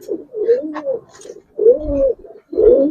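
Giribaz and coloured racing pigeons in a loft give three close, loud, throaty coos in quick succession, each a rolling, rising-falling call.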